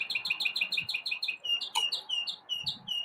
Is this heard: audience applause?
no